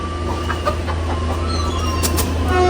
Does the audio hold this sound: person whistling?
no